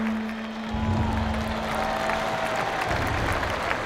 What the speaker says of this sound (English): these boys obviously got a standing ovation when this one finished